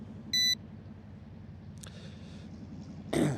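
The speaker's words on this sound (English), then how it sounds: "the controller is beeping a little bit" A Ruko F11 Pro drone controller gives one short, clear electronic beep near the start, over a low steady outdoor rumble that ends in a brief rustling burst.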